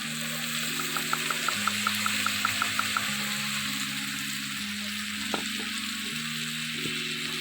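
Chicken cooking in an iron pan over a wooden oven with garlic, onion, ginger, tomato and a splash of water, giving a quiet steady sizzle with faint clinks and scrapes of stirring.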